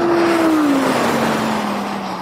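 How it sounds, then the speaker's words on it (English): An Audi in normal comfort mode takes off hard under throttle kick-down, its engine note loud and close and sliding downward as the car surges and pulls away. "when I stamped on the throttle, it just took off"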